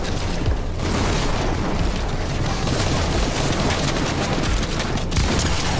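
Rapid, dense gunfire from a competitive Fortnite match played on a controller, a steady loud barrage of shots and impacts filling the full stretch with no pause.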